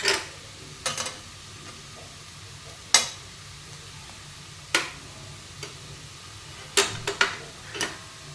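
Potatoes with salt and turmeric being stirred in a pan: a handful of separate scraping strokes, sharp and close, spaced a second or two apart over a low steady background.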